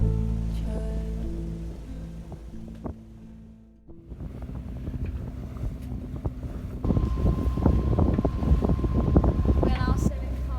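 A sailboat at sea off the Needles on the Isle of Wight beats through rough weather, with steady wind buffeting the microphone and a broad rushing roar of water and hull noise that thickens and grows louder in the latter part.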